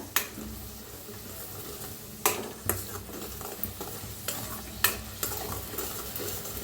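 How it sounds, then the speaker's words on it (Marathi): Finely ground onion fries in a pan for chole, a soft steady sizzle broken by repeated scraping stirs of a spatula at irregular intervals, close and moderately quiet. "कांद्याला छान असं भाजून घ्यायचं, लालसर कलर होऊस्तर।"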